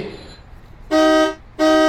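Two loud, sustained car horn blasts, each lasting over a third of a second, sounding close by after a quiet pause.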